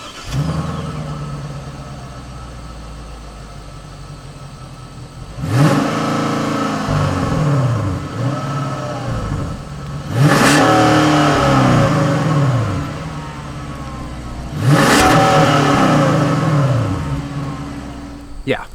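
A Genesis G90 luxury sedan's 5-liter V8 fires up and idles, then roars through three loud rising revs that fall back each time, close and clear, with no talking over it.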